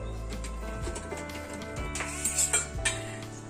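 A spoon serving rice pilaf, made from flattened rice, into bowls: scraping and light clinks of metal against a pot and bowls, a few sharper taps near the end, over a low steady hum.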